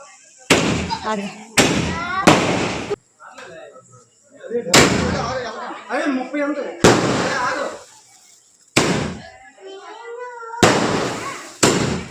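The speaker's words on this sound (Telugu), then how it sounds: "మా స్వాములందరూ కూడాను క్రాకర్స్ ఇవన్నీ కూడా కాల్చారు" Firecrackers go off at a family Karthika Pournami celebration, with about seven loud, sharp bursts at uneven intervals, some trailing crackle, and voices talking in the gaps between blasts.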